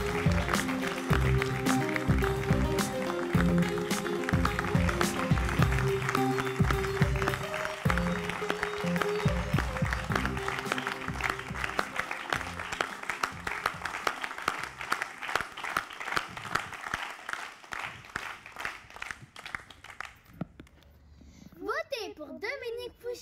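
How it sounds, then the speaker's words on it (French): An audience applauds at a political campaign meeting, with steady clapping and scattered voices that thin out gradually and end in near silence. "merci d'applaudir Dominique Fouchier et toute l'équipe."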